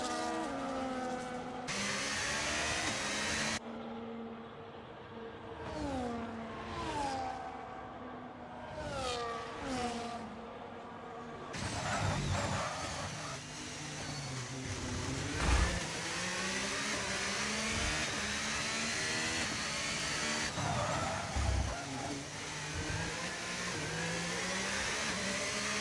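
Formula 1 race car engines in an F1 video game scream through rising and falling gear shifts, with several cars revving and passing loudly throughout the track action in Azerbaijan.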